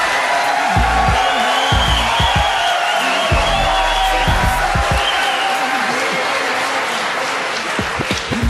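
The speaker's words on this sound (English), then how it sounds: "I never thought heroin would get applause here in South Carolina" A crowd at a political event in South Carolina breaks into loud, sustained applause mixed with cheers and whoops, filling the room steadily throughout.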